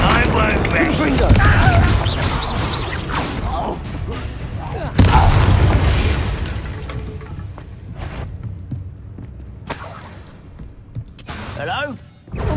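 Confringo blasting spell explosions in Hogwarts Legacy, a string of heavy booms and crackling bursts with a sharp blast near the middle, set against dense game music and effects, with a voice casting spells.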